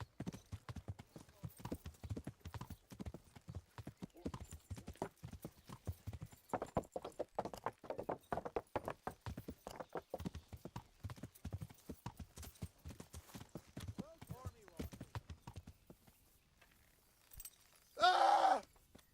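Horse hooves clip-clop in a steady, brisk rhythm in the medieval game Kingdom Come: Deliverance, fairly close and clear. The hoofbeats fade near the end, then a short loud burst of another sound breaks in.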